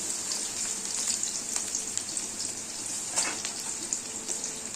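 Green chilies and onion frying in a pan for khichuri, a steady bright sizzle with small crackles and pops, close and continuous with no talking.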